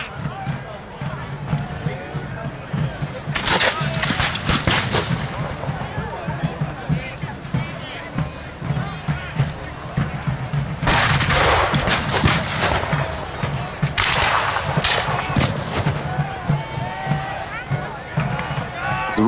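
Royalist cannon and musket fire at an English Civil War reenactment battle at Glemham Hall, with repeated loud bursts of shots over a steady outdoor rumble while a commentator talks throughout.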